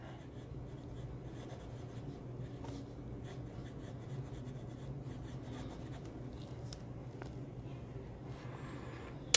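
Steady, faint scratching of a fine fountain pen nib on paper, a Gama Jumbo acrylic pen with an extra fine nib and orange ink, continuing quietly and evenly throughout with no speech.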